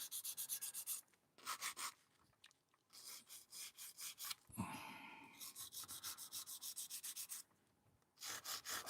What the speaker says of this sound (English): I'm going to file my sides